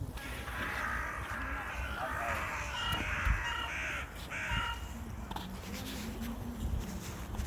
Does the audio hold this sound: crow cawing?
yes